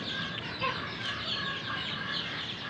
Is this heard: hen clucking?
yes